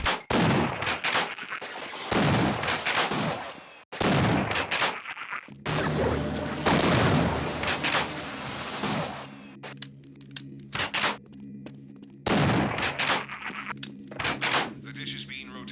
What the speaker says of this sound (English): And this shotgun, man, it sounds so good.